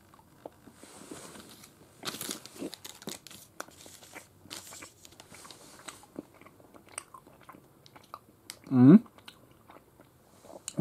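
A Cars Choco Lolly candy being unwrapped and bitten, with soft crinkling, crunchy bites and quiet chewing close to the mic, plus a brief louder vocal sound near the end.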